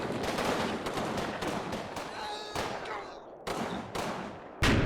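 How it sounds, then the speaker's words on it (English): Grenades and Panzerfausts explode during a night-time firefight in the World War II video game Combat Mission Final Blitzkrieg. A dense, loud clatter of gunfire and blasts is broken by several sharp, booming bursts, with no talk. "Oh, some good grenades and Panzerfausts going off there."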